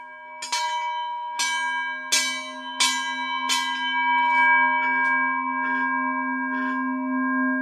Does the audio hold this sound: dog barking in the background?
no